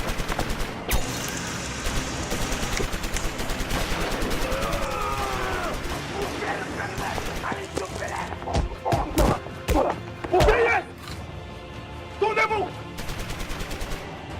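Rapid bursts of gunfire rattle through a tense film scene, heavy automatic volleys mixed with sharp single shots, crashes and thuds, with shouting voices cutting in between.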